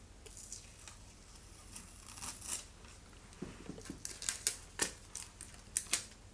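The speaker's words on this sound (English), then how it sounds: "I'm going to take the tape off." Tape is peeled away from skin during makeup application. Soft tearing rustles build into a quick series of sharp, crinkly rips near the microphone, with no speech.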